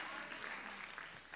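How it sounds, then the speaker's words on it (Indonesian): A church congregation applauding during a sermon, a dense, steady wash of clapping from many hands filling the space at moderate loudness. "Tepuk tangannya meriah buat Tuhan yang luar biasa."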